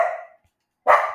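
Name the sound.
dog barking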